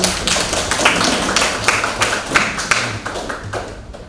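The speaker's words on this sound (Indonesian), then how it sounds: "Tepuk tangan" A group claps in a classroom lesson, the claps ragged and close, holding steady for several seconds before tapering off.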